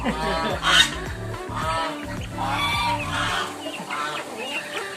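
Ornamental pama, koy and mangon chickens at a poultry farm cluck and squawk nearby, with repeated close calls overlapping one another over a busy background.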